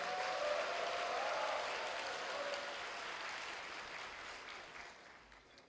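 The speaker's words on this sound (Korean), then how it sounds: "큰 박수로 환영해 주시기 바랍니다." An audience applauds to welcome the university president at a 2017 POSTECH matriculation ceremony, a steady wash of clapping that slowly fades.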